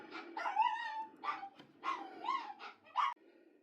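Puppies yip and bark in a lively run of short, high, close calls with a whimpering edge, filling nearly four seconds indoors with no talk.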